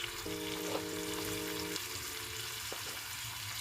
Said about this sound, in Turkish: bol kuru soğanı içine döküyorum